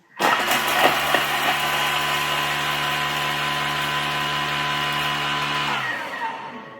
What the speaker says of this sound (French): Et on va faire 5 secondes vitesse 7 pour faire un petit hachis d'ail et de persil.